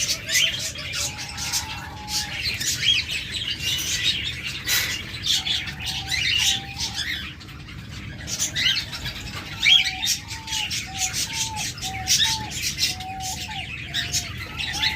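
Caged pet birds, budgerigars, cockatiels and lovebirds kept as breeding pairs, chirp and squawk in steady overlapping bursts, with repeated short whistled calls rising above a busy aviary background.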